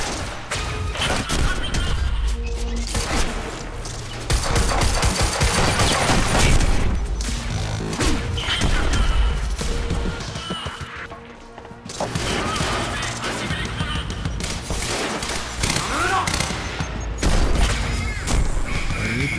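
Bursts of gunfire in the video game Quantum Break, rapid shots and crashing impacts coming in loud clusters separated by brief lulls, with faint talk in places.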